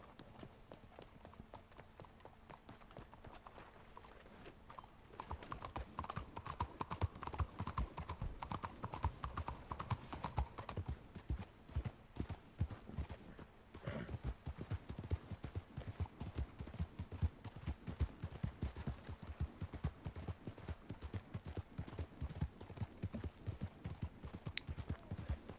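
Horse hooves clip-clopping steadily in Red Dead Online, a continuous rhythmic trot that grows louder and denser after the first few seconds, with no talk over it.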